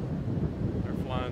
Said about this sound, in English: How hard the wind's blowing